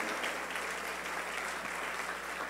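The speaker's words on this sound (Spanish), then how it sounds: "Dense un fuerte aplauso por haber sido valientes." A church congregation claps together in a steady, dense burst of applause, fairly soft and continuous throughout.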